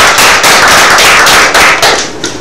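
Audience applause, a dense, loud burst of clapping that holds steady and then tapers off near the end.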